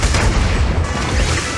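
Gunfire from improvised guns in the video game Zenless Zone Zero, shown as a dense, loud, continuous barrage of booming shots with no pauses.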